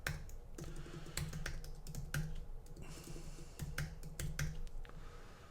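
Someone types on a computer keyboard, entering text into a field: a steady run of irregular, close, crisp key clicks with no speech.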